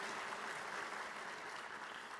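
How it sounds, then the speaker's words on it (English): Crowd at a school district Teacher of the Year celebration claps steadily as two honored teachers walk to the stage, an even, fairly quiet and distant wash of applause with no talking. "One more big round of applause as they make their way to the stage"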